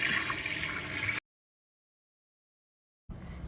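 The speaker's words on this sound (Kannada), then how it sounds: "ನೀರು ಆ್ಯಡ್ ಮಾಡ್ಕೊಳ್ಳೋಣ" Water rushes into rice gravy being cooked for a Varalakshmi festival meal, a brief steady pouring splash that cuts off into silence and then resumes.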